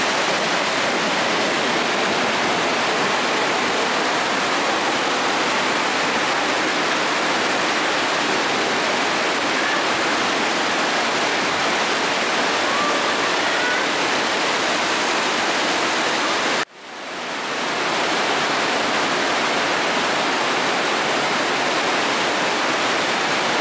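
Raging water torrent in the Höllentalklamm gorge roars as a dense, steady wash of noise, loud and continuous. It cuts off sharply for a moment near the end, then resumes at full strength.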